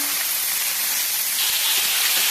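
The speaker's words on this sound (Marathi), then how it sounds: "आता टाकायची पत्तागोबी।" Cabbage dropped into a hot pan with garlic, green chillies and turmeric, giving a steady, loud broadband sizzle that holds evenly throughout with no voices.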